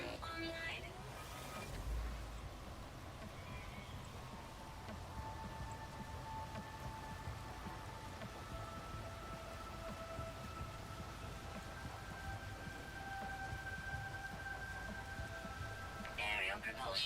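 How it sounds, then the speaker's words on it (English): Steady rain hiss with a low rumble of thunder in the No Man's Sky video game, running continuously at a moderate level behind a faint tonal drone. "We like the rain, though."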